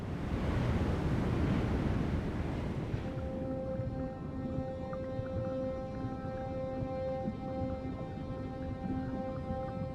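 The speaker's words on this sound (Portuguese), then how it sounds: "Conforme a maré sobe, a água corre por canais profundos e pelos leitos de areia da parte ocidental das ilhas do arquipélago." Rising tide water rushes through deep channels and sandbanks in the Bazaruto archipelago. The broad, loud surging lasts about three seconds, then fades beneath sustained music tones.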